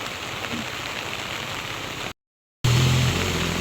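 Steady rain pours down during the wet Christmas season in the Philippines, a dense continuous hiss of drops on surfaces, with a brief dropout before the downpour resumes just as loud.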